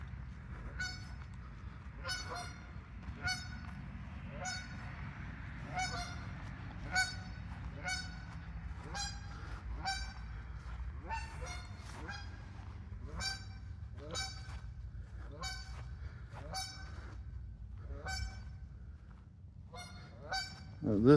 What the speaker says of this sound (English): Darn bird.